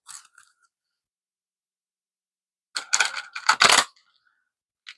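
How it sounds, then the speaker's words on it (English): Tarot cards are shuffled close by in a quick burst of riffling, flapping card noise lasting about a second, after a brief soft rustle and a long quiet gap. "That was a horrible shuffle."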